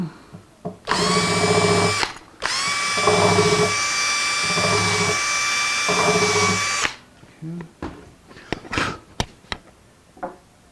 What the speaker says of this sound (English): I'm gonna make that countersink just a little broader